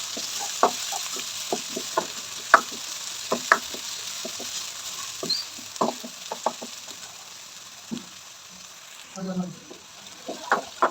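Onion, crushed ginger and garlic fry in a pan, with a steady sizzle and repeated scraping clicks of stirring throughout, close and moderately loud.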